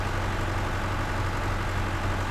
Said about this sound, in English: even the quote-unquote most powerful tractor in the fleet is